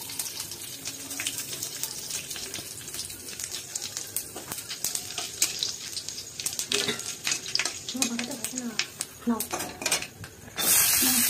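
Bay leaves and Bengali five-spice seeds crackle and sizzle in hot oil in a home kitchen pot, a steady close frying hiss with scattered pops and a few utensil clinks, then a louder burst of sizzling near the end.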